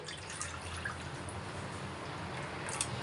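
A litre of thick milk pours into a pot with a soft, faint, continuous liquid trickle and a few light drips.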